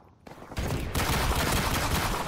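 Gunfire in Call of Duty Modern Warfare starts after a brief quiet moment and builds into loud, rapid automatic bursts that run continuously to the end, dense and close with no speech.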